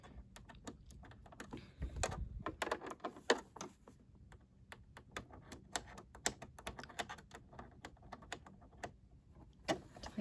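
Small screw being tightened down on a Brother SE600 sewing machine during cleaning, heard as quiet irregular clicks and ticks of the screwdriver and plastic parts, close and fairly faint.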